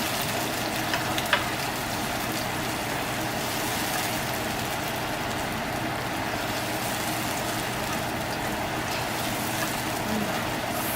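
Vegan empanada filling cooks in a pan with a steady, low sizzle that holds evenly throughout, with no talk and only a faint click near the start.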